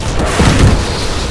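A destroyed Atlas titan explodes in the Titanfall video game, a single loud, close boom with a heavy low rumble that swells briefly and then fades over about a second.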